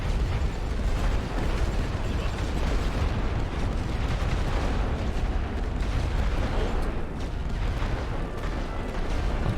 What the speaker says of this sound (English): this is a lot of rifle fire coming from the back